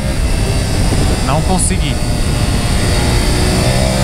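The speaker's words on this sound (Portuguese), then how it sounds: "Vamos esticar a moto pra ver se ela vai no kick" A BMW F850GS motorcycle with a faulty quick shifter revs while riding, its engine tone rising briefly under a steady roar of wind and road noise, and a rider speaks a short phrase.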